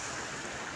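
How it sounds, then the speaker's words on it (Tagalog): A river flows in a steady, broad wash of rushing water, fairly loud and close, with no voices. "Dahil sa may ilog."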